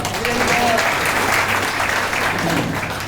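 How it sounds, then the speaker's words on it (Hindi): Loud, dense clapping from devotees seated in a class at Jagannath Puri, a continuous wash of hand claps running the whole moment with voices mixed underneath. "माते की जोरदार ताली।"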